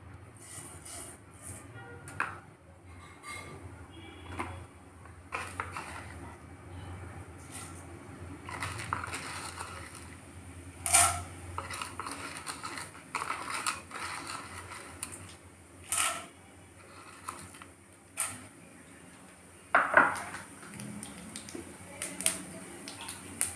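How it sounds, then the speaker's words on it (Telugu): Spices for tempering are dropped into hot oil in a pan for an okra fry, giving a crackling sizzle with sharp spoon-and-pan clinks scattered throughout. "పోపు దినుసులు వేస్తున్నాను"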